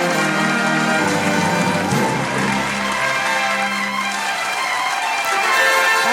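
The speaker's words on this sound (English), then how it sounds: "Can we have a huge round of applause for her?" A crowd applauds a young quiz winner on stage at a finance and stock market quiz grand finale, with loud, sustained clapping under music and a continuous audience roar.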